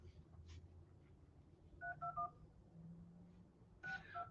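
A telephone keypad beeps out a number as a call is placed, two short bursts of paired dial tones separated by a pause, clear over a low background hum.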